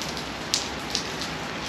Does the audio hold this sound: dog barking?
no